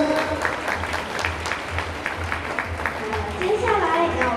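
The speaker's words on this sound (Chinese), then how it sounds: "再让我们以一个热烈的掌声，谢谢火力全开青年十二班" Audience applause at a junior high school sports day and anniversary parade, a dense sustained clapping from a crowd, steady throughout, with a voice speaking over a public address system.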